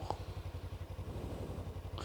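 Motorcycle engine held at low, steady revs, a close pulsing idle-like throb with an even rhythm throughout.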